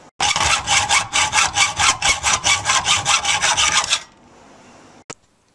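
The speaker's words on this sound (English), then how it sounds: "saw off the major portions of the block here" Hacksaw cutting through a soft, untempered steel block for knife making, a steady, loud rhythm of about twenty rasping strokes close by, then a faint scrape and a final knock.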